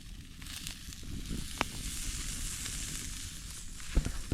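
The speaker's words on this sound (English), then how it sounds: "Now fry them up." Oyster mushrooms frying in oil in a pan make a soft, steady sizzle and hiss throughout, fairly quiet and close, with a couple of small pops and no talking.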